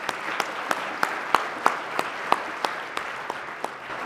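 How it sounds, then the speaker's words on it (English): Rhythmic, evenly spaced claps at an awards ceremony honoring a police sergeant, about a dozen distinct hand claps over quiet room tone, fairly faint rather than a full ovation. "A round of applause for Sergeant Alan Lester."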